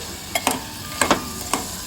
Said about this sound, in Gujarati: બધાને મિક્સ કરી લઈએ.